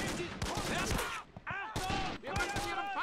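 World War II skirmish gunfire in Men of War: Assault Squad 2, several sharp close shots and bursts ringing out in irregular clusters, mixed with whistling and clattering battle sounds.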